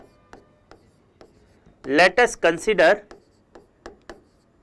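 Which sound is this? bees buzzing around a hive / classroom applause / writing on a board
writing on a board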